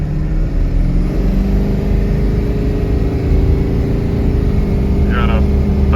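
A Ford 7.3 diesel truck engine with a broken turbo shaft runs at a steady, close, heavy idle with a low droning rumble, and a brief higher chirp cuts in near the end.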